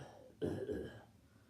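A single short cough from a person, a brief burst of throaty noise that stands out in an otherwise quiet room, nearby and moderately loud.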